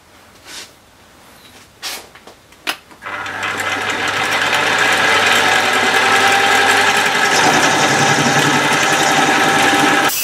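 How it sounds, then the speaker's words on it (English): A milling machine cuts a slot in a steel jacot tool part for a small lathe, a loud steady whine and chatter starting after a few brief taps and knocks and running on continuously to the end. "now I'm just milling the slot"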